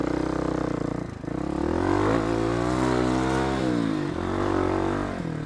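A motorcycle engine in first gear on a desert ride, revving close and loud, with pitch rising and falling smoothly through several pulls, no talk over it.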